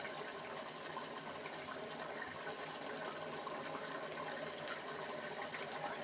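Water at a rolling boil in a pot on a home stove, a steady hissing, bubbling wash that stays even and continuous throughout, fairly quiet.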